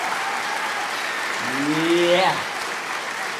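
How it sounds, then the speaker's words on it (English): A class of students applauds, a short burst of steady clapping from a small group, with someone calling out briefly over it. "Please, a round of applause."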